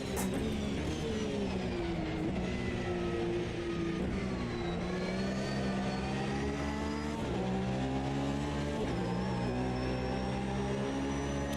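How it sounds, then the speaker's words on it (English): A Porsche 992 GT3 race car engine in a racing video game roars continuously, rising and falling through gear shifts, with repeated revving climbs and a tire squeal, loud and close with no talking. "I love this car, though. Porsche 992 it's such a great car. I'm glad it's featured in this game now."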